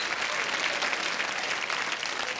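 An audience at a comedy show breaks into dense, steady applause, many hands clapping together at a constant level for a couple of seconds with no voice above it.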